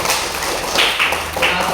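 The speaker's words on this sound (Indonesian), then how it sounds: "Tepuk tangan untuk kita." A class of schoolchildren claps together in a classroom, a few sharp bursts of hand claps close by with faint voices mixed in.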